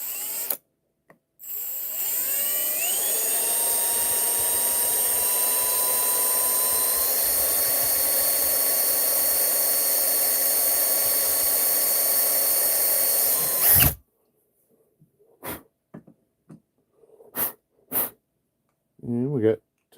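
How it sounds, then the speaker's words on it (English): A power drill bores oil holes into an engine piston, aimed straight toward the wrist pin, as part of an LS engine build. It spins up and holds a steady, close whine for about twelve seconds, then cuts off. Brief voices and clatter follow. "we're going to drill this one straight"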